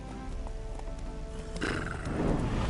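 Roach, Geralt's horse in The Witcher 3: Hearts of Stone, whinnies and snorts up close in a spooked outburst over steady hoofbeats, with a rougher, louder burst in the second half and no talk.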